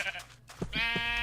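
Sheep in the Minecraft video game bleat in short, clear, nasal calls, a couple of them close together, quiet and alone.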